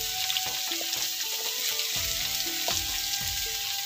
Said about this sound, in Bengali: দিয়ে সবজিটাকে আমি ভাজতে থাকবো